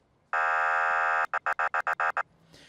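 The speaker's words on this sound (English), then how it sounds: "I can actually come right in here, and you can hear the bullhorn." A loud electronic police bullhorn in the game Flashing Lights blares in one long sustained tone, then gives seven quick, evenly spaced honks before cutting off. No voices.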